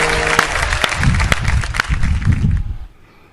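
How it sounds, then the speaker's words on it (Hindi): Applause for an online Hindi poetry gathering (kavi sammelan) sounds as dense clapping that holds steady for a few seconds, then fades quickly to near silence. "आप तालियां बजाकर उन सब का अभिनंदन करें, स्वागत करें"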